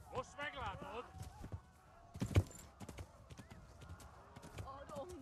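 Horse hooves clip-clop at an even pace in the video game Kingdom Come: Deliverance beneath a voice, with a louder thud partway through.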